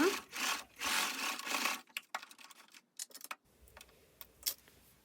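A sewing machine stitches a pocket onto a hooded dress in a series of close mechanical runs, a longer rattling burst followed by shorter, quieter stop-and-start stitching with small clicks.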